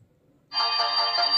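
A Fire-Boltt Ninja Calling Pro smartwatch starts playing music through its small speaker after a brief quiet moment, the thin, tonal sound continuing steadily and fairly loud at close range.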